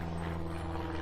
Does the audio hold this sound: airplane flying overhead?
yes